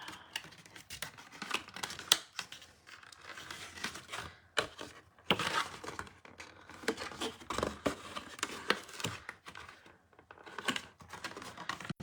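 Paper is creased and folded into a small box by hand, with a continuous run of close, soft crinkles, taps and sharp creasing clicks in an irregular rhythm.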